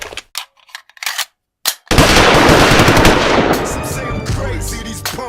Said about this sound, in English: an unknown gunman in a white Cadillac emptied a 14-round 40 caliber clip directly at Tupac and Suge Knight